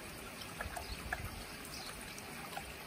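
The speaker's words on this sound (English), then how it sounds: "just sprinkle the water over the top of the wound seal like so" Water is sprinkled over wound sealant on a koi's lifted-scale injury, a faint, soft trickle with a few light drips and splashes against quiet background hiss.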